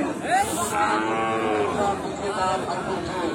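Cattle, including Sahiwal bulls and calves, moo loudly nearby at a livestock market in Raniganj, long drawn-out calls overlapping, with murmuring voices and market bustle underneath.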